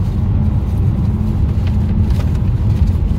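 A 2024 Mitsubishi ASX 1.3 M Hybrid cruising at about 120 km/h on a highway, heard from inside as a steady low road and engine drone with continuous tyre rumble, no voices.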